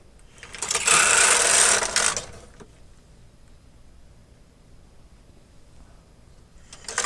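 A domestic knitting machine carriage sweeps across one row for a curved short-row hem, a loud mechanical whirring rush lasting about a second and a half, then near quiet before another pass begins.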